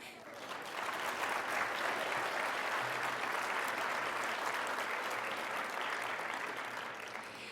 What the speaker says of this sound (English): Thank you for your wonderful applause